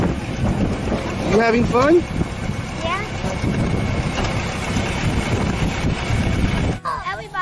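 Rumbling wind-buffeted motion of a hay ride wagon rolling across a pumpkin farm in Delaware, a steady loud noise wash throughout with voices talking briefly over it.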